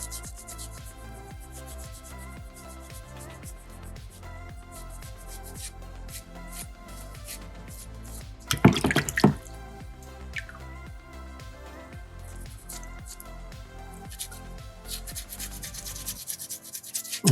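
Sandpaper rubs steadily over a small soapstone bison carving, a continuous close scratchy scraping with a short, louder burst of friction near the middle.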